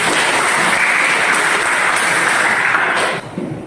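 A classroom audience applauds a student, dense steady clapping at close range that carries on unbroken and then thins out right at the end.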